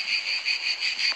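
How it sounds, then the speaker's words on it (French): Cicadas chirping outdoors at dusk near a chapel, a loud, close, pulsing high trill in even repeated bursts, with no other sound. "Il y a encore les cigales."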